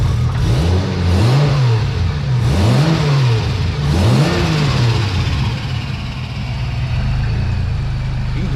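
A Toyota Aristo's 1JZ turbo engine revs repeatedly through a loud, raspy straight-pipe exhaust with a Vibrant 3-inch muffler, three rising-and-falling blips followed by a rumbling idle.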